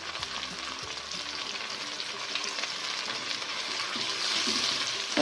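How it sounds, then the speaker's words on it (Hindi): Garlic and ginger paste frying with onions in hot oil, a dense continuous sizzle with soft stirring scrapes beneath, rising slightly louder toward the end; no voices. "अब हम इसमें ऐड कर देंगे गार्लिक का पेस्ट और जिंजर का पेस्ट, ठीक है। ये देखिए इसको मिक्स करेंगे।"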